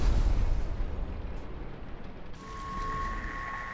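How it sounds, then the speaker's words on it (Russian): Explosions in the video game Sniper Elite 3: a loud, deep rumbling blast that fills the opening and slowly fades into a lingering roar, ending in a thinner hum. "Круто оно тут все так взрывается."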